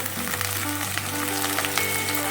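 Curry leaves and onions crackling in hot oil alongside green chilies for a peas kurma, a dense close sizzle scattered with sharp pops and spits throughout.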